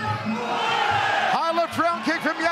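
The crowd at a Rebellion Muay Thai fight between Conor Goodman and Gianpaolo Iacopino roars in a continuous wash of noise. It then breaks into loud, rising shouts and whoops from spectators.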